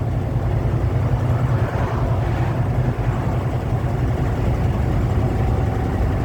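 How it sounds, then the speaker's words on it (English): A truck's engine brake engaging after the throttle is released, a loud, continuous low diesel rumble with a fast pulsing throb that holds steady for several seconds, close to the microphone and with no talking over it. "The engine brake."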